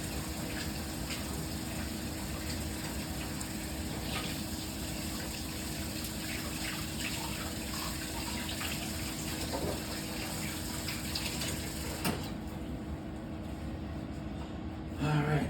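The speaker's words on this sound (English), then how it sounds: "Wash your hands. Yeah. If you've never done that, hot water." Hot tap water runs steadily with a hissing rush while hands are washed with dish soap, close by, cutting off near the end; a voice talks quietly underneath.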